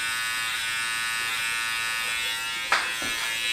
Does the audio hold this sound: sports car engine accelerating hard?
no